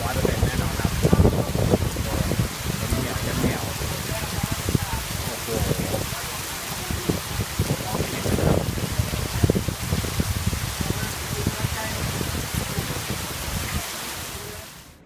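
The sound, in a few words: heavy rain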